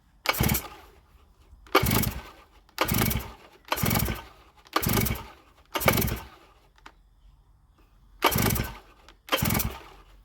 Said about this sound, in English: At least the starter motor's working.